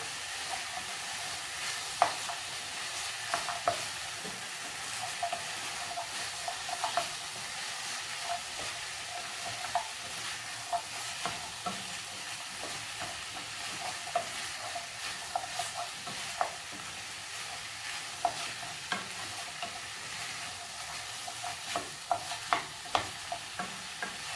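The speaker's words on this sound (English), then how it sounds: "And you continue frying." Onions and carrots fry in a pot for brown beef stew, a steady close sizzle broken by frequent scraping clicks of stirring, with no voices.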